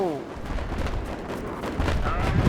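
Battlefield 3 Armored Kill combat: an explosion and rumbling artillery-like blasts amid ongoing gunfire, a dense low roar with crackling bursts, while someone talks over the noise.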